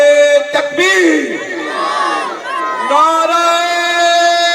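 A large crowd at a religious gathering, a Milad celebration, roars a chanted response to a Takbir slogan, many voices swelling together loud and close in one sustained shout.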